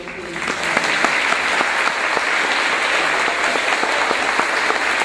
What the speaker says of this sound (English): Please join me in a round of applause for the Nicholasville Police Department.